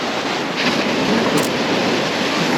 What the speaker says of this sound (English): Let's hope these waves calm down a little bit.